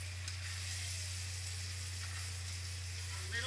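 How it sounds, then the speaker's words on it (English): Bacon and vegetables sizzle in a pan on a Coleman camp stove, a steady, soft frying hiss over a constant low hum, with no talk. "Hear it sizzle."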